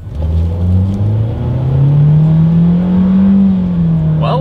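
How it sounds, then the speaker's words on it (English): A 2022 Nissan Kicks with a CVT accelerating hard in sport mode, its engine droning loudly and close with a rising, slightly stepped pitch like simulated gear shifts, steady throughout. "let's see how quickly we can get our new 2022 Kicks here up to speed"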